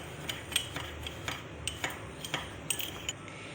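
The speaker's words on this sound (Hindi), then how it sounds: "मैंने बहुत अच्छे से कॉफ़ी और चीनी को मिक्स कर लिया है" A spoon clinks steadily against a cup as instant coffee and sugar are whisked together by hand, the light metallic ticks coming in a quick, irregular rhythm, close and fairly quiet.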